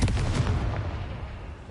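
A Confringo spell blast in a Harry Potter video game lands as a single deep, booming impact that rumbles and fades over under two seconds, fairly faint and low overall.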